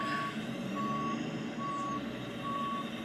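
Truck backing toward a trailer sounds a steady series of evenly spaced reversing beeps, loud and clear over a constant engine drone, with no talk.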